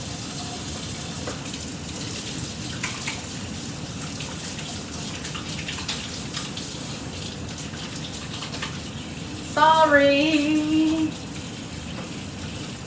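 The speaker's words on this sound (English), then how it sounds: "Wash my hands really quickly." Hands washed under a running kitchen tap, a steady broadband rush of water holding throughout at close range, with a brief tonal squeak or voice partway through.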